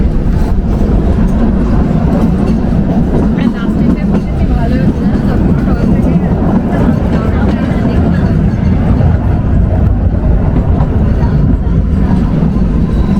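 Kalka–Shimla toy train (Shivalik Express) running on narrow-gauge mountain rails in Himachal Pradesh, a steady loud rumble and clatter of wheels and carriages throughout, with voices talking over it.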